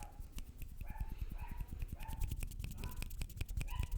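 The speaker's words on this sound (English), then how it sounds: "I think you can hear my neighbor's dogs." Neighbor's dogs bark repeatedly in short bursts some distance away, with a steady run of close soft hand tapping sounds underneath.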